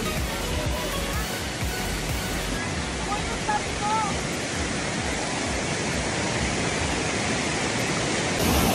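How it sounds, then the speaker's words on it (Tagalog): Strong river current rushing along a riverside path, a loud, steady broadband roar of water filling the whole clip, with voices faintly mixed in underneath. "medyo malakas ang agos"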